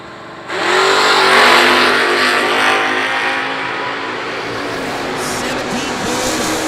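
1968 Chevy Camaro and 1972 Nova launching side by side in a drag race at the IHRA World Finals, a loud burst of engine roar that rises sharply and then holds as a sustained, slightly distant rumble.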